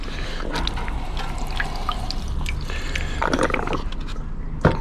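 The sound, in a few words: water running while rinsing aqua regia off hands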